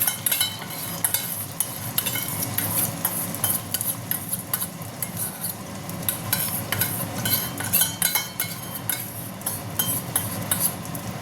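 Four beaten eggs hit hot oil in a pan for an omelette and fry with a steady sizzle, while a utensil stirs and clinks against the pan in quick, repeated scrapes.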